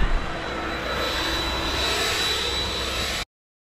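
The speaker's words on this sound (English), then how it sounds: "So I'm going to give that a little blow with the blower first" A leaf blower roars steadily and close, a constant broadband rush clearing moss and weeds off a car park, cutting off abruptly after about three seconds.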